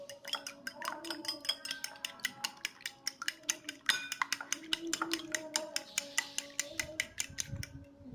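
A utensil whisks broken eggs in a bowl close up, making a quick, steady series of sharp clicking taps against the side, roughly three to four strokes a second, with a faint voice in the background.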